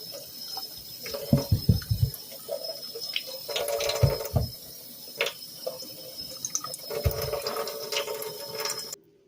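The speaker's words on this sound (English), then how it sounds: "Washing the potatoes." Tap water runs steadily while raw potatoes are washed by hand for a one-pan potato and vegetable bake, with clattering knocks and splashes of potatoes shifting in the stream, close by and without talk.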